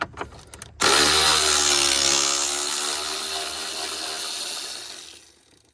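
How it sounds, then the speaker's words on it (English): A cheap electric impact wrench runs in one sustained whining, rattling burst of about five seconds, removing 10mm bolts from a radiator reservoir on a Toyota 3.5L V6 2GR-FE engine during a belt tensioner job, after a few brief clicks. "My electric wrench is starting to take a crap."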